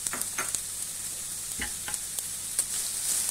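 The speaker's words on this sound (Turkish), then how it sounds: "Soğanımızı ilk etapta döküyoruz." Chopped onions fry in hot sunflower oil in a heated pan, a soft steady sizzle broken by occasional scraping stirs and utensil taps, close and without speech.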